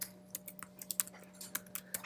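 Fingers tap a computer keyboard in an uneven run of quick, sharp clicks, close by over a low electrical hum, entering a comment in MATLAB's command line.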